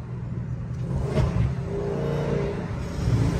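A Dodge Hellcat's engine revs hard while racing, a low, continuous roar that swells slightly as it pulls, heard from inside or close to the car with no talking.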